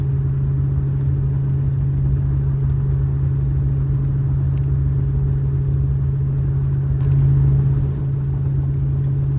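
A 2003 Chevrolet Silverado truck with an aftermarket muffler idles in a steady, loud, low rumble that holds constant throughout, with a slight swell near the end.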